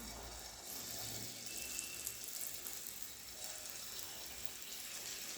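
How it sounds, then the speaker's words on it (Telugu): Bonda batter frying in hot oil gives a steady, even hiss close by, continuous and moderately loud throughout with no talking. "నెక్స్ట్ నూనె కూడా వేడి ఉంది, మనము వేసేసుకుందాం దీంట్లో."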